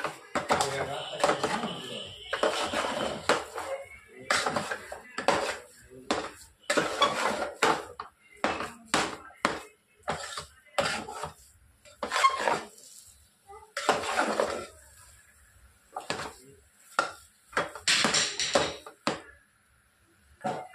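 Coconut laddu mixture is stirred in a metal vessel, making irregular clinks and scrapes of metal in bursts with quiet gaps, while a person talks at times.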